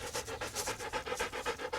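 A dog pants rapidly and rhythmically close by, quick breathy huffs repeating evenly with no other sound.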